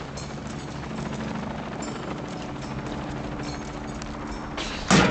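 Helicopter in the Shadow of the Tomb Raider video game, a steady rotor drone with low thumping that holds throughout, joined by a brief louder burst near the end.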